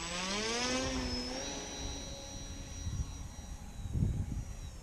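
A Carbon Cub S+ radio-controlled airplane on its maiden flight whines past with a rising, then falling electric motor tone. Faint wind and handling noise rumble underneath.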